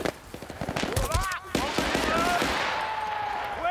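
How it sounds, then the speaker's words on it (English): Gunfire in the video game Battlefield: Bad Company comes as rapid, overlapping shots and bursts, loud and close. A speaking voice runs under the shots. "That was some nice shooting"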